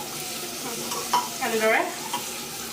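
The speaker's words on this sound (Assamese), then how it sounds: "4-5 মিনিট ভাজিব লাগিব মানে পিঁয়াজখিনি। তেতিয়া কালাৰটো চেঞ্জ হৈ আহিব। খালি পিঁয়াজখিনি লৰাই থাকিব লাগিব।" Chopped onions sizzle and fry in hot oil on medium heat for Assamese pulao, stirred with a spoon that scrapes the pan several times; steady close frying under a single brief spoken word.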